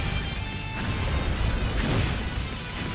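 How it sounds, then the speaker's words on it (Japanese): A volcanic eruption attack in the video game One Piece Pirate Warriors 4, a dense continuous rumble of crashing, booming impacts with heavy low end, loud and sustained throughout. "火山爆発。"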